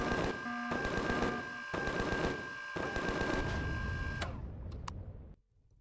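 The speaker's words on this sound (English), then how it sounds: "and I'm getting shot at" Gunfire in the video game Empyrion strikes the player in a fast, continuous chatter of impacts that lasts several seconds, then stops with a few last sharp cracks and a quiet tail.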